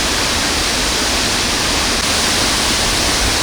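High-flow waterfall at the very end of the rainy season on the Bolaven Plateau, a loud, steady, broadband roar of crashing water with no breaks.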